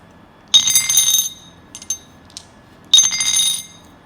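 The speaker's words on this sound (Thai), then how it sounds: "วิธีการเขย่าลูกลบเหลี่ยมนะครับ" Two bursts of dice rattling inside a cup, with bright clicky clatter, separated by a few lighter taps.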